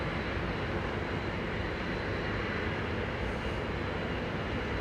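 Steady loud roar of a light aircraft engine during the takeoff roll on a runway, a continuous broadband drone with no talk over it.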